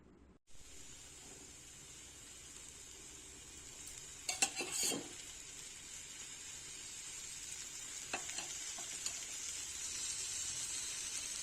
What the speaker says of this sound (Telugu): వీటిపైన ఆయిల్ వేసి వీటిని మగ్గించుకోవాలి.